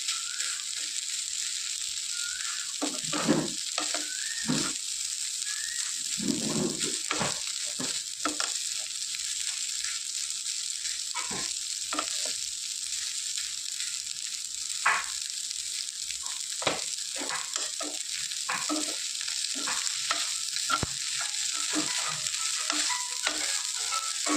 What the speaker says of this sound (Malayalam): ഒട്ടും തന്നെ കട്ടയില്ലാതെയൊക്കെ ഇളക്കി യോജിപ്പിച്ച് കൊടുക്കണം